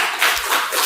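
Clapping in a classroom for a student group during a maths lesson on arithmetic sequences, a brief, dense burst of hands close by with no talking.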